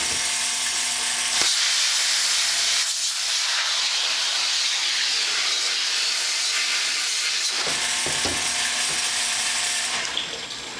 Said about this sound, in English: I think I'll just take the pressure washer and blast it out.